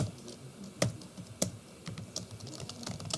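Keys clatter on a computer keyboard while entering PHP code, a run of light, quick taps with two sharper, louder strokes standing out, close and clear with no talking.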